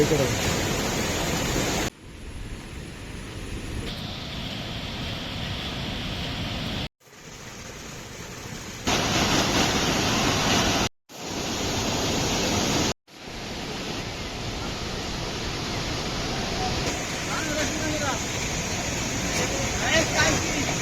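Steady broadband rush of a hidden waterfall near Honnavar, heard close by as a loud continuous roar with a few abrupt cuts and level shifts.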